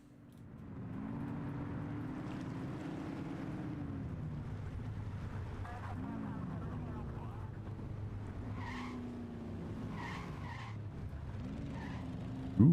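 A Mustang is driven in the 80s-set video game The Precinct, its engine droning steadily and rising and falling with gear changes, with occasional tire skids and a sudden crash at the end.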